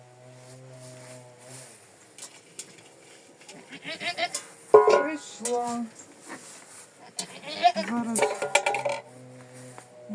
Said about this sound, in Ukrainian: Ну чого ти бекаєш?